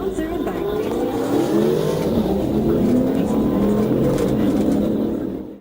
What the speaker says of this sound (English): Police spotted a light gray Dodge Charger roaring down West Blue Heron Boulevard, driven by Jalen Camarena Davis, who was speeding recklessly and revving his exhaust.